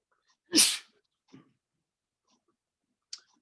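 One sharp, loud sneeze close by, followed by a faint sniff and a small click in otherwise quiet surroundings.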